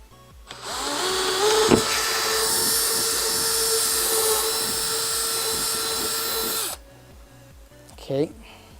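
Power drill boring into a wall while mounting a desk mat, a loud steady whine running several seconds before cutting off abruptly, followed by a short burst of talk.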